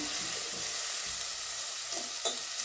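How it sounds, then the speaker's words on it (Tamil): Tomato, green chili and drumstick sautéing in a pan for hotel-style tiffin sambar, a steady quiet sizzle with a few soft stirring scrapes close by, and no talking. "நம்ம இது கொஞ்சம் நேரம் வதங்கட்டும்"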